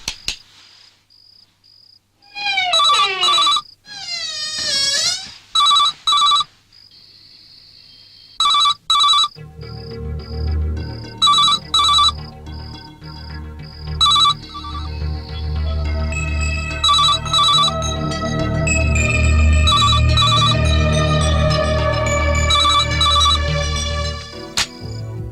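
A phone rings in a Hindi-dubbed South Indian action film scene, with bursts of repeated electronic ringtone tones that give way to swelling background music.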